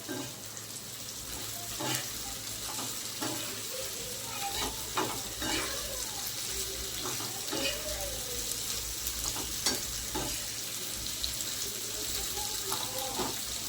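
Bitter gourd sizzles and crackles steadily in hot oil in a pan, a continuous close hiss with occasional stirring sounds and no talking.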